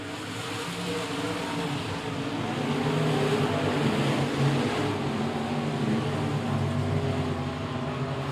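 Race cars circling the track at Rocket Raceway Park, a continuous roar of several engines heard from a distance, steady and broad with a slight swell in the middle.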